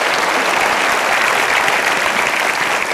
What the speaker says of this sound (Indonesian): kita berikan aplaus untuk Pak Agi